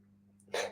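One loud, sharp sneeze bursts out at the end of a short quiet stretch, heard on a live radio show.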